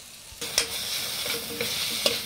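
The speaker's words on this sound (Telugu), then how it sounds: "ఇవన్నీ వేసేసుకున్న తర్వాత కొద్దిసేపు దీన్ని ఇట్లా ఒక 2 మినిట్స్ మొత్తం ఇలా కలిపేసేసుకోండి" Chapathi noodles with red chilli sauce, green chilli and tomato chutney are stirred in a hot pan. A steady sizzle runs under a few scraping strokes of a spatula, quiet and close, with no one talking.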